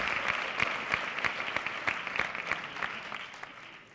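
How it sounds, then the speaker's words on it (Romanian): An audience applauds at a 2016 sports excellence awards gala in Iași, a dense, steady clapping with a few sharp, evenly spaced claps standing out, gradually thinning toward the end. "putem să-i mai aplaudăm o dată"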